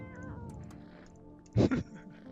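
A cat in the video game No, I'm Not a Human lets out one loud, close, drawn-out meow after a stretch of quiet background murmuring.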